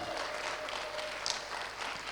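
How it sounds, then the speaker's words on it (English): Audience applause at a women's summit as a guest makes her way to her seat, a steady, moderately distant wash of clapping with a faint voice and a brief cheer in the middle. "Let's keep clapping until she takes a seat."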